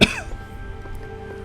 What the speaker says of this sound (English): I got a bit of a cough here all of a sudden.